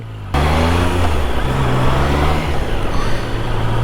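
A Triumph Tiger 660 Sport motorcycle engine starts abruptly and revs close by, a loud throaty drone that rises and falls in pitch through a few throttle blips.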